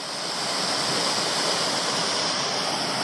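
A mountain stream on the Mt Ossa climb of the Cradle/WOJ circuit flows in January with a pretty good flow, a loud, steady, close rushing of water with no voices.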